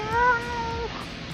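A domestic cat gives a single clear, close meow that rises and falls, wanting cat food, then quiet room tone follows.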